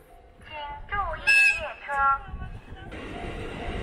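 The Furano-Biei Norokko sightseeing train passes Lavender Farm station in Hokkaido, Japan, with rumbling and squealing tones, then a rising wash of rail noise; a platform announcement voice speaks briefly in the middle.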